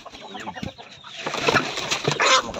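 Native chickens cluck and squawk in an overlapping, excited flock at feeding time, close by and growing busier and louder toward the end.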